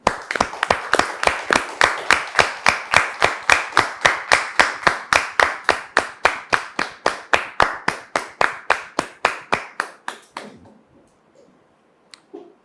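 Rhythmic unison clapping from a studio audience welcoming a guest onto a talk show, loud, regular beats about three per second for ten seconds before stopping abruptly, with faint murmuring afterward.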